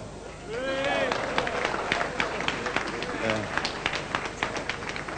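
An audience breaks into applause for Sir Freddie Laker, moderate and a little distant, with voices calling out at the start before the clapping settles into a steady patter.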